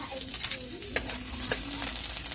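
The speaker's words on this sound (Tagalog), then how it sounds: "Pag nagluluto talaga ako guys, inuuna ko yung bawang." Garlic fries in a pan with a soft, steady sizzle, fairly quiet, with faint scrapes and taps from stirring.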